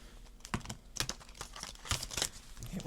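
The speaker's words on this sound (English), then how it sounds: "That did not shuffle very smoothly." Deck of oracle cards shuffled by hand, giving close, uneven papery flicks and crinkly riffles in quick irregular bursts, moderately quiet, no talk.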